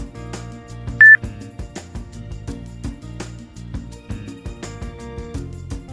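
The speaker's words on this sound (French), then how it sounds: "jusqu'à entendre un bip" One short, clear electronic beep sounds close by from a Zoomax Panda video magnifier over a soft background of low rumble and light clatter.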